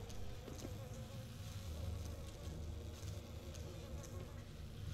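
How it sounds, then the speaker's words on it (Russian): Flies buzzing in a Deus Ex: Human Revolution game scene, a steady insect drone with faint high whine that carries through the full stretch at low volume, with no talk over it. "Фу, мухи."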